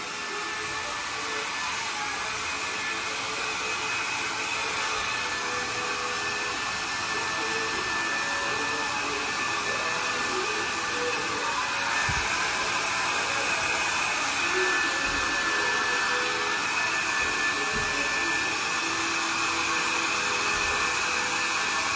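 A steady, loud blower roars continuously with a broad airy hiss, holding a constant pitch throughout with faint thumps underneath.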